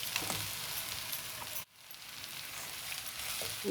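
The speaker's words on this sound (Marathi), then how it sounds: "गू विरघळेपर्यंत परतायचे" Raw mango pieces and jaggery sautéed in a pan, giving a steady close sizzle with faint stirring scrapes, broken by a brief drop to near silence midway before the frying hiss returns.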